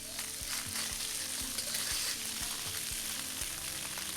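Tofu pieces fry in a pan for a bean sprouts and tofu dish, giving a constant close, loud sizzle broken by regular knocking taps as the pieces are tossed and turned.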